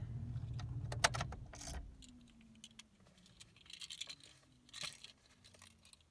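Keys jangling right after a 2007 Chevy Silverado 1500 pickup is shut off, a close burst of metallic rattles early on followed by scattered lighter clinks over quiet.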